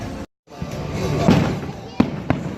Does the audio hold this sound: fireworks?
yes